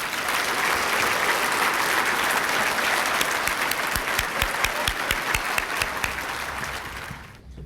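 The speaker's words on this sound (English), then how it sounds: "If we could just give our Tartan Stars Awards a final round of applause." A banquet audience gives a sustained round of applause for award winners, dense steady clapping with some sharper individual claps standing out near the end before it trails off.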